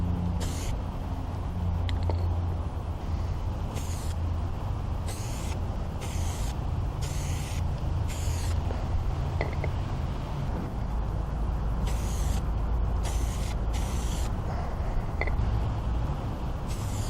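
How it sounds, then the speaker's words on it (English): An aerosol can sprays primer onto a car bumper in repeated short hissing bursts with pauses between them, over a constant low background rumble. "Shake your primer can for about 30 seconds and apply 4 light coats of primer."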